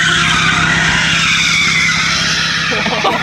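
Mustang tires skidding loudly at a drag strip as the car swings sideways toward the wall, a continuous harsh screech with engine roar and broadband noise throughout, close and intense.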